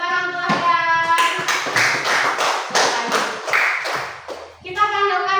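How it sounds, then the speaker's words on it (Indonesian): A group of young students at an Islamic kindergarten claps for a classmate, a brisk burst of hand applause lasting a few seconds between short spoken phrases. "tepuk tangan untuk Ahdan"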